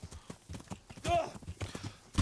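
Horse hooves clip-clopping in the video game Kingdom Come: Deliverance, a quick uneven patter of hoofbeats up close with a brief whinny-like call midway and a voice speaking faintly underneath.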